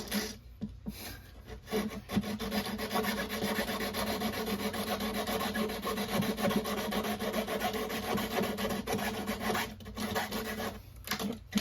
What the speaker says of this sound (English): we're just sawing down the fiberglass a little bit